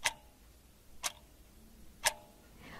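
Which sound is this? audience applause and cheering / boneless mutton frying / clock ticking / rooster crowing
clock ticking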